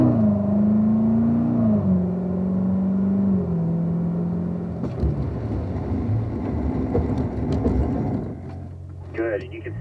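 A Corvette on a track runs a hard braking exercise with an ABS stop, its engine droning and shifting pitch before a rumbling, rattling stop; a voice comes in near the end.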